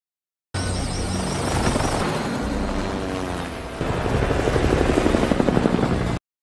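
Helicopter in a film action scene during an escape from a building, a loud continuous rotor roar with rhythmic blade chop that thickens and grows closer in the second half.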